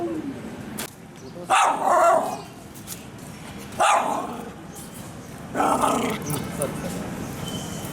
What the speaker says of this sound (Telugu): నాకు ఆల్రెడీ 3 కుక్క పిల్లలు ఉన్నారు